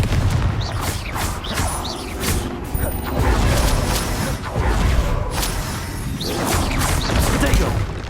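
Repeated Confringo blasting-curse explosions from Hogwarts Legacy, dense crackling bursts and whooshes that roll on continuously and loud, with swells around the third, fifth and eighth seconds.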